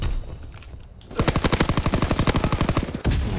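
A burst of rapid automatic gunfire in the video game Call of Duty: WWII rattles off in a steady fast rhythm for about two seconds, close and punchy, following a quieter lead-in.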